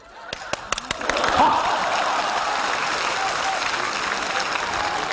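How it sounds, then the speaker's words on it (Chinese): An audience applauds during a comedy sketch on stage: a few scattered claps at first, then a crowd joins into steady, sustained clapping that fills the remaining seconds. "哎，这大姐姐还鼓掌呢"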